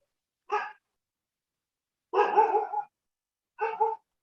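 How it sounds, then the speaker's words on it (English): Street dogs bark in three separate bursts, a short single bark, then a longer run of barks, then another short one, heard alone with no talk. "I'm hearing a dog."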